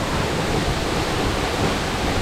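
A waterfall in the Amazon jungle near Puyo, Ecuador roars as a dense, continuous rush of falling water, loud and close with no voices.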